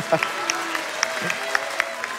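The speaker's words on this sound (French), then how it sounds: "On peut applaudir Yoshi qui nous aura bien aidé." Scattered claps and a little crowd noise during a Super Mario Sunshine speedrun, with a few bright game-like tones, moderately loud under ongoing background activity.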